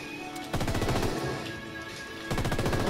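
Gunfire in the tactical shooter Ghost Recon Wildlands: loud sustained automatic bursts with a dense rapid rhythm, easing briefly in the middle before another heavy volley starts near the end.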